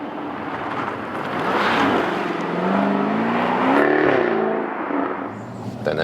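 Jaguar F-Type V8 P450 Cabriolet facelift engine revving loudly and close by, its pitch rising and falling through a couple of swells.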